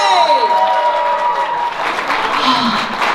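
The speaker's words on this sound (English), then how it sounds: "Give a round of applause, Paul Cutler and Maddie Kate Cosplay!" A crowd at a cosplay convention's closing ceremony claps and cheers loudly and steadily, the applause swelling and continuing throughout, with a lingering musical tone fading at the start.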